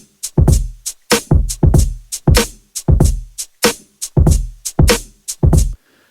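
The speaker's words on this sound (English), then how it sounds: "So I grabbed this drum loop." Drum loop at 95 BPM built from kick, snare and hi-hats, playing a steady repeating beat with punchy hits roughly every half second, clean and close with no voices.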